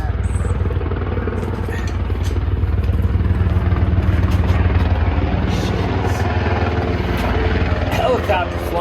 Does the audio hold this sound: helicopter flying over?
yes